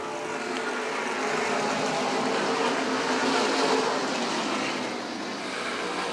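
Race cars in a 75-lap short-track event at Beech Ridge roar steadily and loudly as a pack, a continuous blended engine drone swelling slightly mid-pass with no voices.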